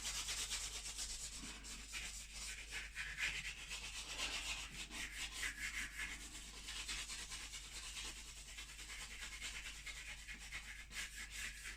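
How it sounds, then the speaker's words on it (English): A soft charcoal stick scratches and rubs across paper while a seascape is drawn. The strokes are quiet and close, with a steady, continuous texture and no voices. "this charcoal stick was nice and soft. It starts to get scratchy."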